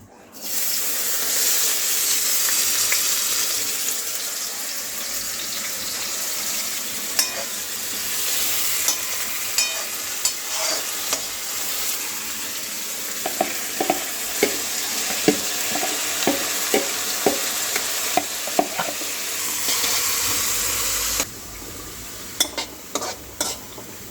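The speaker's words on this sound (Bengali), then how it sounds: "পেঁয়াজ আর আদাটা আগে দিয়ে দে তেলের মধ্যে" Onion and ginger frying in oil for a home-cooked dinner, a steady broadband sizzle running throughout with scattered spoon-and-pan clatter and occasional water splashing, close and fairly loud.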